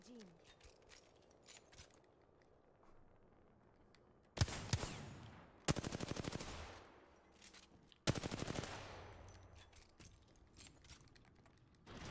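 Gunfire from a weapon in the video game Apex Legends rattles out in three loud, rapid automatic bursts, set against faint keyboard and mouse clicks.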